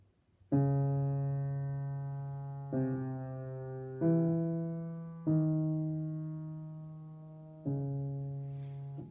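A piano plays the slow theme of a Bach fugue, five struck notes, each ringing out and fading before the next, clear and alone.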